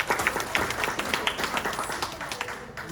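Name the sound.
audience applause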